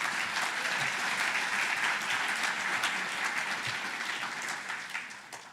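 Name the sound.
applause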